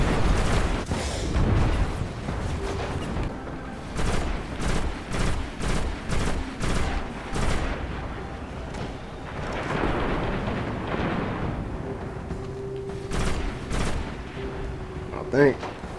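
Repeated rocket explosions and gunfire in the shooter Destiny, a rapid series of sharp bursts and booming blasts through a chaotic firefight, with a player shouting over the din.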